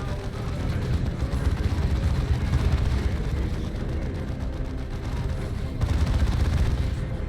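Sustained turret gunfire in the strategy game Dawn of War 2: Chaos Rising, a dense rumbling barrage of rapid shots and blasts that continues steadily and loudly throughout with no pauses or voices.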